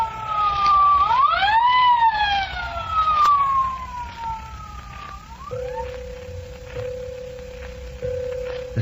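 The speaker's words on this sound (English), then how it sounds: "The siren came." A loud wailing ambulance siren rises and falls close by in a 1949 radio drama, then gives way to a steady high tone as other traffic noise continues underneath.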